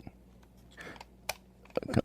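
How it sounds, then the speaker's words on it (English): Computer keyboard typing in a few short bursts of clicky keystrokes, close and moderately loud, with brief quiet gaps between taps. "I love the sound of keyboard typing"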